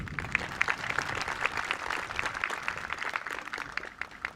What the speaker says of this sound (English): Can I have another round of applause for Ms. Allison Fay